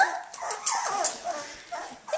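Very young puppies, about eighteen days old, make small growling, yipping and whimpering noises, close and fairly soft, in short bursts with brief pauses between.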